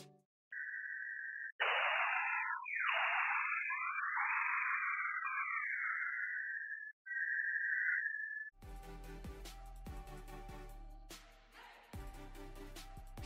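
A picture is sent as sound by the Sonic Photo program for spectrum painting with an SDR. Loud synthetic whistling tones sweep and warble in bands for about eight seconds, then give way to music.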